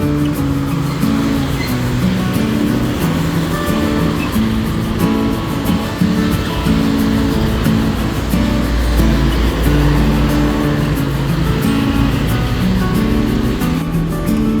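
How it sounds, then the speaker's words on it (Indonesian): Intercity bus pulling away from the Comal wholesale terminal in Pemalang at night, a steady low diesel engine rumble with rising drone, close and loud throughout, with busy terminal ambience and no talk. "Nah itu sudah naik kembali dan bis diberangkatkan kembali dari Jaya Kabul."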